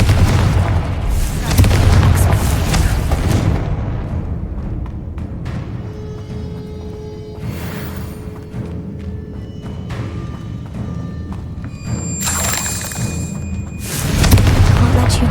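A Confringo spell explosion in the video game Hogwarts Legacy: a loud booming blast at the start, a rumbling, sustained tail and then another heavy burst near the end, with game music tones in between.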